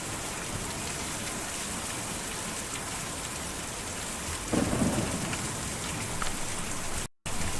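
Steady rain falls in the video game Kentucky Route Zero, a dense hiss carrying a low rumble of thunder that swells midway, then cuts off briefly near the end.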